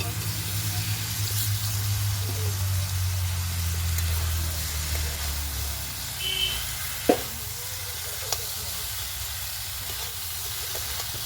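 Cauliflower, potato and fried prawns sizzle and hiss steadily in a pan as they are stirred into spices, with occasional scraping clicks of stirring.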